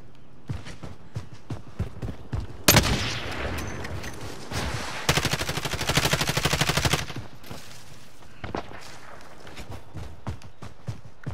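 Gunfire in Call of Duty Warzone: scattered footsteps and clicks, then a loud crack, a sustained rapid burst of shots, and a quieter stretch of steps and distant reports.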